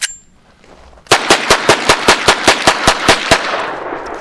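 A Hammerli 1911 pistol in .22 LR fires a magazine of mixed ammunition: a quick, evenly spaced string of about twelve sharp, loud cracks close by, each with a short ringing tail.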